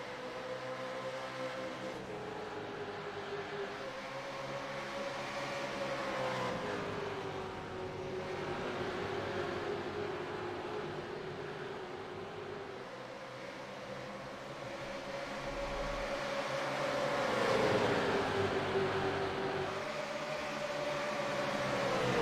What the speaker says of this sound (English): The cacophony of V8 engines ring down the back end of Darlington Raceway